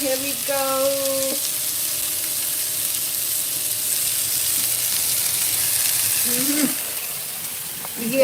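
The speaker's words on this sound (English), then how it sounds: "You hear sizzling so good" Beef skewers sizzle steadily in a pan in a home kitchen, a continuous close hiss running the whole time, broken by a few brief squeaky scraping sounds near the start and end.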